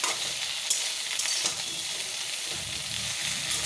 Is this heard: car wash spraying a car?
no